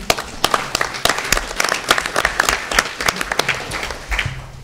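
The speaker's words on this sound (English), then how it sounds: "I think he deserves a round of applause." The audience at an Orlando City Council meeting applauds, a dense, fairly close round of clapping with many hands overlapping in a continuous patter that holds steady before easing off.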